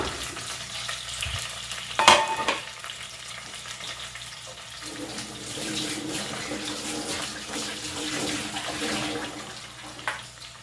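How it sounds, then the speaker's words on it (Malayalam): Sliced onion, green chillies, ginger and garlic frying in a pan for a fish curry, giving a continuous close crackling sizzle with a sharp clatter early on and soft stirring scrapes throughout. "ഒരു സവാള രണ്ട് പച്ചമുളക് ഇഞ്ചി വെളുത്തുള്ളി ഒന്ന് വളർത്തിയെടുക്കാം"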